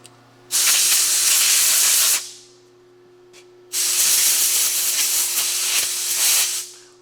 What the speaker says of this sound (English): I always like to blow air down through the barrel because you could have some chips down there or some metal grit